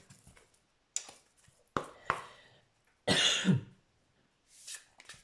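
Several short, dry coughs and throat-clearing bursts come from a person with an itchy throat, close and fairly quiet, spaced irregularly with brief silences between them.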